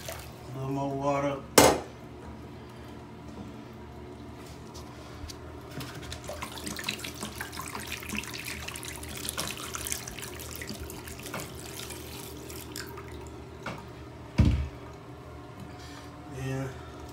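Steady running water from a tap fills a basin, with a couple of sharp clinks of dishes or metal near the start and end.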